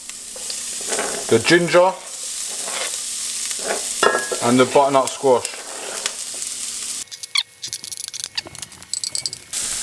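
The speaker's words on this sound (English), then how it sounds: "meanwhile, while that's frying, you want to get your other ingredients ready" Shallots and bell pepper sizzle steadily in a pan while a person talks over it, with brief clattering and stirring noises toward the end.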